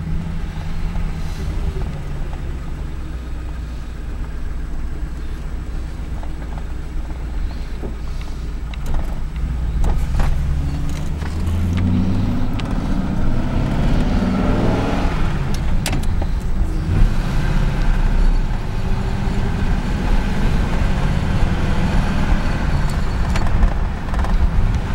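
A 1949 Ford engine idles low and smooth, a quiet steady rumble with faint wind and road noise and no talking.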